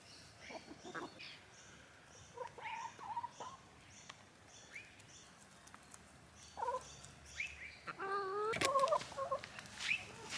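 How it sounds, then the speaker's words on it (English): Chickens cluck and call in a backyard veggie patch, scattered soft clucks through the clip and a louder squawking burst near the end, close but quiet against outdoor background. "Naughty chickens."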